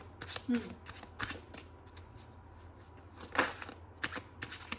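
Tarot cards being shuffled and drawn, a series of quick papery riffles and slaps in several bursts, fairly close and soft, with a faint room hum beneath and no talking.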